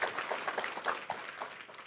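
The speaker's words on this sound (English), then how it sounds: "A round of applause" A small audience gives soft, scattered applause during an interview with NBA player Muggsy Bogues, quiet irregular claps heard at a distance for a couple of seconds.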